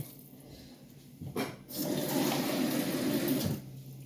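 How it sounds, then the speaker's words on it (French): Water poured in, a steady close splashing flow that starts after a brief clatter and runs for about two seconds before stopping, with no talk over it. "Et on remet un peu d'eau."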